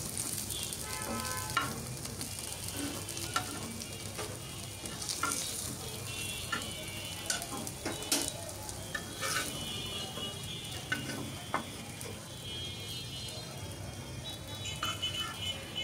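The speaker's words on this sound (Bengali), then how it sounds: "এই তো ভাজা হয়ে গেছে, আমি সবগুলো এখন এক এক করে তুলে নিচ্ছি" Pumpkin flower and lentil fritters fry in oil with a steady, close sizzle, broken by occasional clinks and scrapes as they are lifted out one by one. No one speaks.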